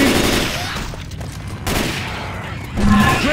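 Loud, dense gunfire fills the Left 4 Dead 2 match on The Parish versus map, with bursts of rapid shots swelling and dipping throughout, and a voice briefly calls out among them.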